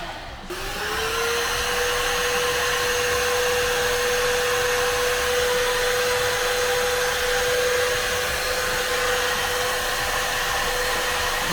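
STIHL SEA 20 cordless vacuum cleaner switching on and running, a sharp rising whine that settles into a loud, steady motor drone held close by for over ten seconds, no speech.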